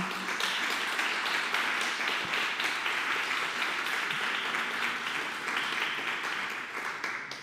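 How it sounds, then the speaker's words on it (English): Steady applause from an annual meeting audience honoring Samantha White, a dense, even wash of clapping that holds for several seconds before easing slightly at the end. "Samantha White deserves a round of applause for leading that committee this year"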